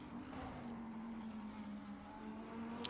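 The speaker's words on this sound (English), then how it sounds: "Now you can hear the roar of that Lamborghini engine just a little bit clearer." Lamborghini GT3 engine in a sim racing game on the Nordschleife, a steady faint drone holding one pitch for a few seconds with no voices.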